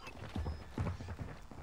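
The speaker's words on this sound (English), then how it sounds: "those footsteps are like elephants" Heavy, thudding footsteps in Call of Duty Modern Warfare 2 beta on Xbox, a quick run of dull steps in an uneven rhythm, fairly close and moderately loud.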